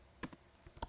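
Quick, faint keystrokes on a computer keyboard tap out in a short, irregular burst of a few clicks, close by but quiet.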